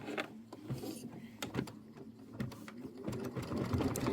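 An embroidery sewing machine stitches a placement line for a Kimberbell quilt block, giving a steady rapid mechanical whirring chatter with rhythmic needle pulses that runs continuously and fairly close.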